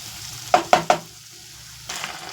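Partly boiled potatoes being stirred through sauce in a pan: three quick, loud scraping strokes in a row, then a pause with a faint simmer and one softer stir near the end, close up.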